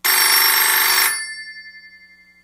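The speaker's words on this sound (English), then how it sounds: "The ringing thing wasn't supposed to be there." A loud electronic ringing sounds in one burst for about a second, then stops and leaves a faint tone fading out.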